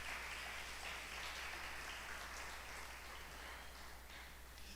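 Church congregation applauding throughout a worship service, a steady, dense wash of clapping spread across the room, fairly distant and even, with no voices over it.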